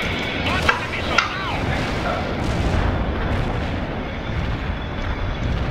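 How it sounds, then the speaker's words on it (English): Missile launch and explosions in the World in Conflict strategy game: two sharp blasts near the start, then a continuous rumbling roar of fire and detonations, with voices faintly under it. "Launch the missile!"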